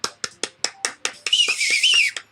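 In a video game, a string of sharp, evenly spaced percussive hits, then a loud, shrill whistle through the teeth with a wavering pitch that holds for about a second before one last hit.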